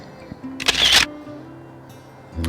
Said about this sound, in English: That way it allows the camera to steady down after the shutter has released and potentially induced a degree of vibration.